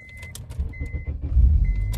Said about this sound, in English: we're just gonna hop in here and try to start this car